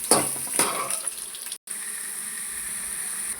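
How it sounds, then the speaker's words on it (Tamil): Onions sizzling in an Indian-style pan fry with mustard seeds, fenugreek, green chilli and garlic: a steady close crackle with a couple of stirring scrapes early on and a brief dropout midway. "நல்லா வதங்குது வெங்காயம்."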